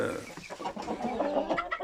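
Indian game chickens clucking in a farm poultry yard, a steady run of close, overlapping clucks and short calls from several birds with no talk.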